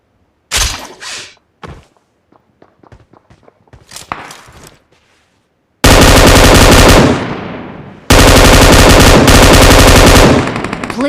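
Gunfire from an AWM sniper rifle in the video game PUBG: loud, close shots and two long blasting bursts, preceded by scattered thuds, footsteps and smaller impacts, with no talk.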